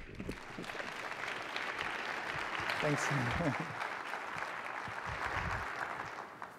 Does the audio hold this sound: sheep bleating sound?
no